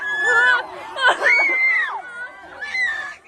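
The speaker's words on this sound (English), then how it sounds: "Desperate screams on the streets of Shanghai as residents protest the prospect of having COVID-19 isolation facilities so close to their home" A crowd of residents on the streets of Shanghai screams and shouts in protest, high desperate voices overlapping in loud, close bursts with a pause before a final cry.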